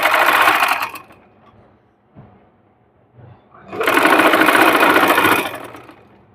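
Sewing machine stitching a sleeve with same-colour thread, running in two loud bursts of rapid whirring separated by a quieter pause with faint handling noise.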